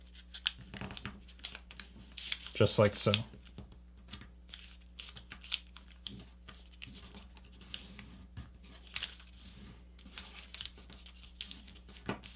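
Sheet of paper being worked and flattened by hand while folding a paper airplane with spikes, a short burst of crinkling and rustling near the start, then light scattered rustles and soft handling sounds, with a brief spoken remark.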